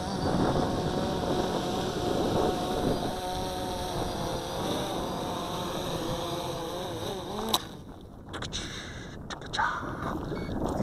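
A Wingsland Scarlet Minivet quadcopter whines steadily as it descends in a light breeze, its rotor tones shifting and wavering before cutting off abruptly, leaving some faint handling clatter and wind.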